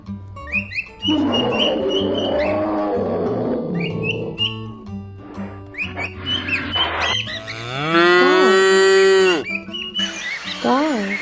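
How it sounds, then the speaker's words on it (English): Cattle mooing, several drawn-out low bellows in a row with rising and falling pitch, the last one loud and long, close and clear with no talk over it. "Cow, cow."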